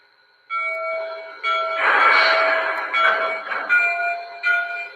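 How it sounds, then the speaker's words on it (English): A Legacy model train locomotive's electronic bell rings in repeated bright, clanging strokes, loud and close, with brief pauses between bursts. "Let's listen to the bell as well"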